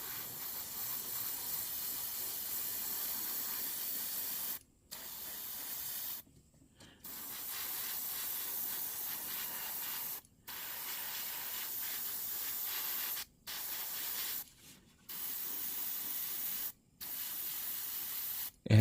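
Spray painting Gundam model kit parts with metallic gray paint, a series of steady hissing bursts from a close airbrush or spray can, broken by short pauses, with no talking.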